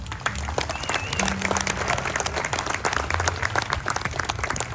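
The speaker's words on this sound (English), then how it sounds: "One more round of applause, please." An audience at the International Ukulele Festival of Hawaii gives a round of applause, a full, steady wash of many hands clapping with some cheering and faint voices underneath, sustained for nearly five seconds.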